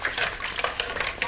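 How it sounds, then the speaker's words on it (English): Two eggs with salt and pepper whisked in a bowl in a home kitchen, a quick, even clatter of whisk strokes ticking against the sides, close and moderately loud with no voices. "Whisk."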